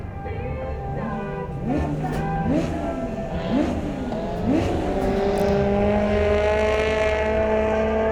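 Compact speedcars race around the Bega speedway dirt track, engines revving in a string of rising and falling sweeps as cars accelerate and pass, over a constant close engine drone.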